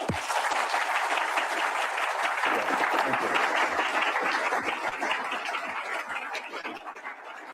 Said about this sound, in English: So a warm round of applause for him, please.